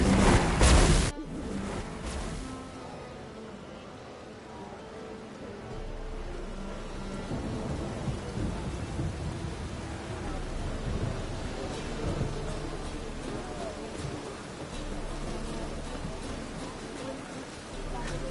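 Storm in The Witcher 3 on PS4: a loud, close thunder crack opens, then heavy rain pours steadily with low rumbling thunder rolling underneath the whole way.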